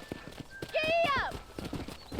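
Horse in the Red Dead Redemption video game galloping with rapid, close hoofbeats and a loud whinny midway, while a voice talks over it.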